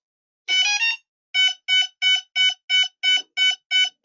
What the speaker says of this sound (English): No, still beeping.